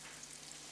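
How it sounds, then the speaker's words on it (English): Persian meat cutlets sizzle in hot oil in a frying pan, giving a steady, dense hiss and crackle up close with no talking. "if it starts sizzling like this, we're ready"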